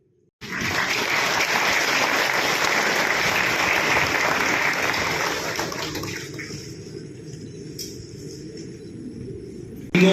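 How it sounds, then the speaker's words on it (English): Audience applause at a college convocation ceremony, a dense sustained clapping from a large crowd that continues steadily, then thins slightly toward the end. "Mosaic, please applaud its unveiling."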